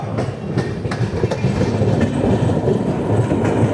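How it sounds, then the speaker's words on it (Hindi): The Godan Express from LTT to Gonda rolls past with a loud, steady rumble and rhythmic clickety-clack of wheels on rail joints, with no voices. "Godan express LTT Godda"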